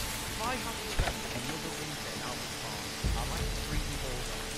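Rain falling in the medieval city-building game Manor Lords, a steady wash of dense patter with a few louder thumps, continuous throughout under a person talking.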